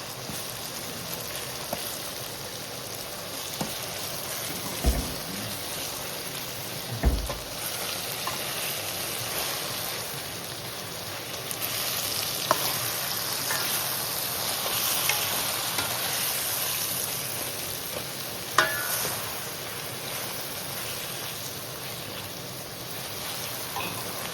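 Ginger, onion and green chilies fry in a pan with eggplant and chili powder, a steady close sizzle and crackle throughout with occasional stirring clatters.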